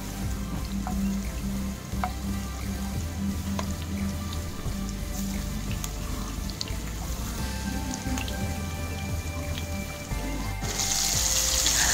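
Mushrooms for tikka masala frying on a high flame crackle with a steady, dense sizzle throughout, close and continuous, swelling to a brighter hiss near the end.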